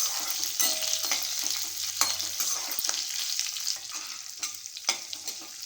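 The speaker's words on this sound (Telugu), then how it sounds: "ఒక 5-6 ఎండుమిరపకాయలు, కరివేపాకు. ఇలా ఒకసారి కలిపేసుకుందాం." Dried red chillies and curry leaves stirred in hot oil in a frying pan for raw mango pulihora, a steady broadband sizzle with scraping spoon strokes at irregular intervals, close and fairly loud, no talking.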